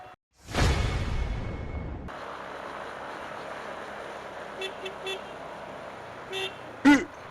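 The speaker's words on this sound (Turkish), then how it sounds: "Kornaya basa basa geliyorum bak burnunu çıkarmasın diye." A motorcycle horn sounds in a few short toots while riding, then gives one louder blast at the end, over road noise after a close whoosh of a passing vehicle.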